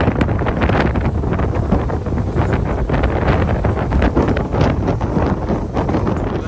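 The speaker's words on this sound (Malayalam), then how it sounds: "തണുപ്പുണ്ട് നല്ല കാറ്റുണ്ട്" Strong wind buffets the microphone on a fjord cruise boat near Bergen, Norway, a loud, steady roar of broadband gusting with no voices, throughout.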